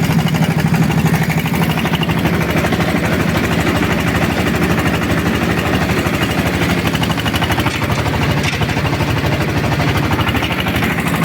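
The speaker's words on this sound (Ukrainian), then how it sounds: "Трактор набрав обороти, диму немає." A homemade 4x4 tractor fitted with a GAZ-53 gearbox works a field while ploughing, its engine running steadily and loudly at raised revs with a constant rough, chugging drone throughout and no voices.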